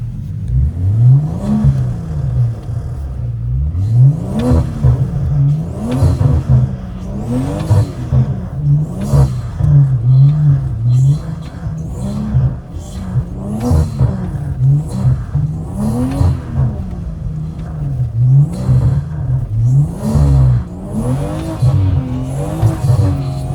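A 500 hp BMW 340i drifts in the snow, its engine revving hard and repeatedly rising and falling in pitch throughout, with loud, close throttle bursts and tire noise.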